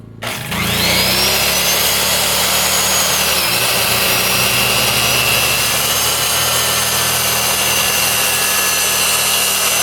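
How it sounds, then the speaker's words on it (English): Power saw cutting through the end of an oak board, a steady loud whine sustained for nearly ten seconds after a quick spin-up, with no talking. "let's flip this board around and trim the other end."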